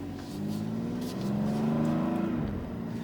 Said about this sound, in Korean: 제가 느끼는 배기음은 상당히 좀 두껍게 나오는 것 같은 그런 느낌이 있습니다